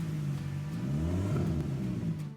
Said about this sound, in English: they said that it now sounds like a rally car.